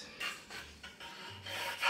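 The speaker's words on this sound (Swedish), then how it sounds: "Såga lite längre in här." A battery-powered saw cuts into a wooden bathroom cabinet, a close run of rough rasping strokes in uneven bursts with short gaps between them and no talking.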